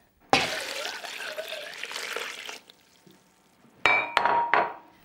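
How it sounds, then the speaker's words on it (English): Water is poured into a cooking pan for Seville orange marmalade, a long steady splashing pour followed by a pause and a few short louder splashes and trickles, close and with no talking. "Next thing we're going to do is add 4 pints of water"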